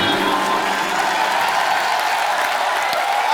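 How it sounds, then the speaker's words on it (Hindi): Studio audience applauding for guests John and Sonakshi on The Kapil Sharma Show, a dense, steady wash of clapping with some crowd noise throughout. "जॉन और सोनाक्षी के लिए जोरदार तालियां"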